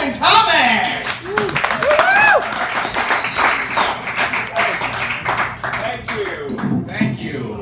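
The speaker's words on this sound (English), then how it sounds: "gentlemen, put your hands together for Owen Thomas!" Audience applause and cheering for a comedian at an open mic night in a pizza place, loud close clapping with whoops and shouts, easing slightly toward the end.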